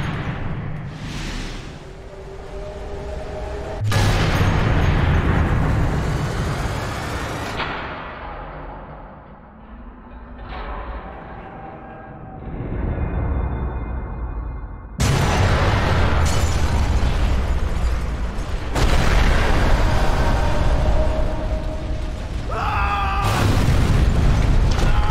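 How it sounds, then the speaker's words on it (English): Explosive pouches detonate inside a hangar in the video game Sniper Elite 3, a series of loud booming blasts with rumbling tails, separated by quieter stretches and sudden sharp cuts between bursts. "Valen gets yeeted by the explosion"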